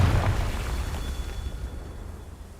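Confringo, a fiery spell in Hogwarts Legacy, opens with a deep booming blast that fades into a rumbling decay with a faint high tone, moderately loud and without voices.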